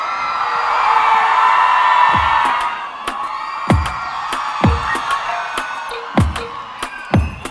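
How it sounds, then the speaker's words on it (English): At an outdoor halal food festival in Mississauga, Ontario, a crowd cheers and whoops loudly at first, then settles as sharp claps and bangs break out in an uneven rhythm over lingering voices. "Make some noise one more time for Kathy Khalil!"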